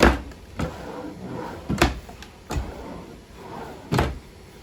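Several wooden drawers slide open and shut inside a 2021 Surveyor 203 RKLE travel trailer, with soft knocks at irregular intervals in a quiet room.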